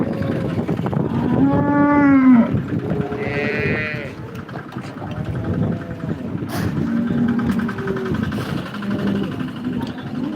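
Several cows moo loudly and close by at the Modnimb cattle market, with long drawn-out calls, and a bleat among them, over a busy crowd murmuring in the background.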